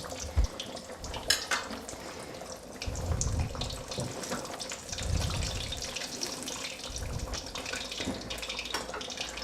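Gram-flour-coated fish frying in a pan over low heat, a steady sizzling hiss with bubbly crackle throughout, swelling in two louder bursts partway, close and with no talk.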